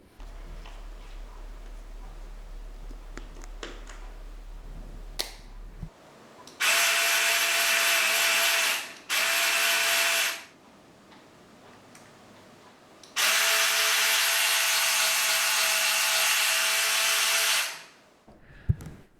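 Sealey battery-powered speed ratchet spinning bolts in and out, two loud sustained whirring runs of a few seconds each, close up, separated by quieter handling noise.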